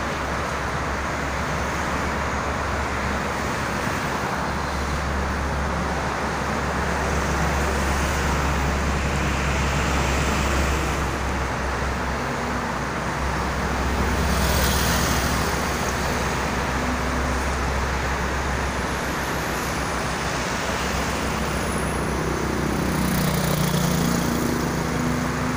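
Heavy holiday traffic on the Jakarta-Cikampek toll road: a dense, steady roar of cars, buses and trucks heard close, rising and falling slightly as vehicles pass, with no talking.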